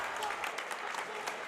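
Home crowd at a St. Joseph high school basketball game in a small gymnasium cheering and clapping after a missed free throw, a dense sustained roar with a commentator talking over it.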